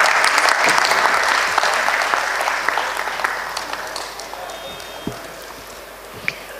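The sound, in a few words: audience applause at an awards ceremony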